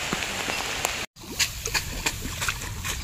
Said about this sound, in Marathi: पाणी जोरातच लागलाय.